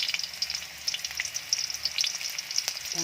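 Red onion sizzles in melted butter in a pan, a close, steady crackling fry with small popping bursts throughout and no voices.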